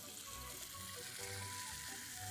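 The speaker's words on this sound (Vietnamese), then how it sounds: "Bây giờ chúng ta sẽ rán cá." Fish frying in hot oil in a pan, a steady close sizzle with crackling spatter running throughout, no voices over it.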